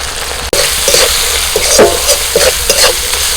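A spice masala of ginger, garlic, green chilli, chopped tomato, salt, turmeric, chilli and cumin powders sautéed in a pan, loud close sizzling with repeated rhythmic stirring scrapes, no voices.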